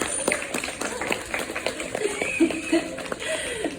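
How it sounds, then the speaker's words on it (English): Scattered clapping from a crowd at a dolphin and seal show mixes with chatter and a few high calls, irregular and moderately loud rather than a sustained ovation. "Let's give Zippy, Jet and Belinda a big round of applause."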